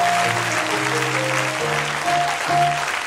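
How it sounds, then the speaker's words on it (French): A church audience claps and cheers steadily throughout, a dense wash of applause over sustained organ or keyboard chords. "Je n'ai pas entendu tes acclamations."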